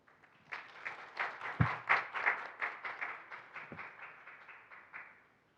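Audience applause at the 2021 Busan Global Partnership Forum, a moderate round of clapping that swells, holds steady for several seconds, then tapers away, with no talking over it.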